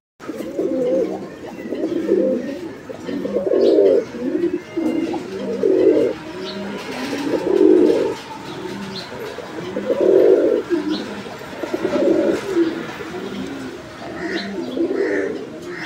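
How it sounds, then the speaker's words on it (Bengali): Male pigeon cooing in repeated rhythmic bursts, close and loud, with faint chirps of other birds in the background. "একদম ভরপুর ডাকের একটা নর"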